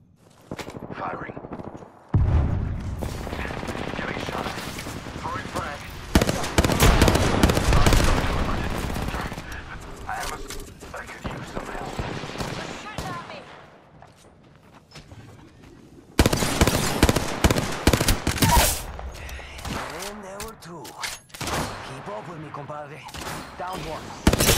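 Video game gunfire with sustained automatic bursts and heavy shots, loud and close, rising and falling across the stretch with short lulls and people talking over it at times.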